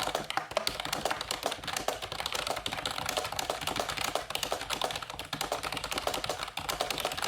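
Rapid, steady typing on a computer keyboard fills the whole stretch, dense continuous key clatter at close range with no talking over it.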